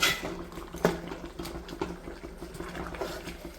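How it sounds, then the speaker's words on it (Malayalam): Mustard seeds spluttering in hot oil, rapid irregular pops and crackles over a soft sizzle, close by and fairly quiet. "കടുക് വറുത്ത്"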